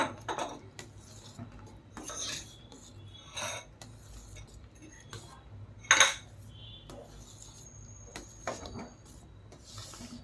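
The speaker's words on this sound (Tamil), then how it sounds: "இப்போ நம்ம பொறிச்சு வச்ச இந்த நட்ஸ் இதில் ஆட் பண்ணிடலாம் ஆட் பண்ணிவிட்டு நல்லா இதை கலந்து விட்டுக்கலாம்" A metal spoon scrapes and clinks against a pot while fried nuts are stirred into adai payasam, giving intermittent rasping strokes and one sharp clatter, fairly quiet with pauses between.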